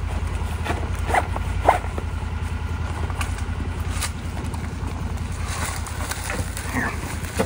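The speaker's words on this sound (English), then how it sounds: "Gonna be able to reach that zipper?" A clothing zipper is pulled along its track with brief rasping strokes, set against steady low wind and vehicle rumble outdoors near a parked buggy.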